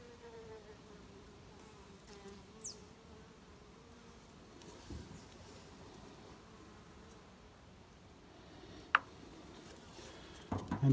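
Faint, thin buzzing of a few bees around a mini nuc hive, soft and steady with occasional close fly-bys and light rustling, and no voices.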